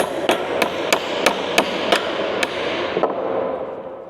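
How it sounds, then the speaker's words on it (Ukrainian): Sharp metallic hammer taps on a bolt strike about eight times at a steady, fairly quick rhythm, close by, then stop. "Пару раз молоточком і все стало."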